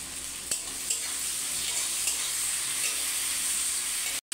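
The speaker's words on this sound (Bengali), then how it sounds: "পেঁয়াজ টমেটো আমি ভেজে ভেজে দেবো" Onion and tomato fry in a pan, a steady close sizzle with a few scraping stirs of the spoon, continuous and fairly loud, then a brief dropout near the end; no talking.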